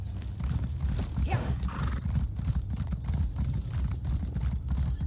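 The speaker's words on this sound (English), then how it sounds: "Oh, let's get on the horse." Horse hooves clip-clop steadily at a gallop in the Elder Scrolls Online video game, with a brief neigh early on, continuous and close with no talking.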